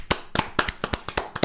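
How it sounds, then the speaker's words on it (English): A short burst of hand clapping in a podcast studio, roughly ten sharp claps in quick, slightly uneven succession, close and loud with no talking. "There's going to be a lot of clapping in this podcast."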